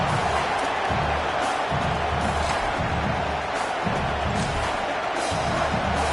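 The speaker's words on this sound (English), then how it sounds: "The roar of the crowd trying to fuel this defense to keep them pinned in their own end." A college football stadium crowd roars during Texas A&M versus Kentucky, urging the defense on. The dense cheering stays loud and sustained for the whole stretch, with no clear talk above it.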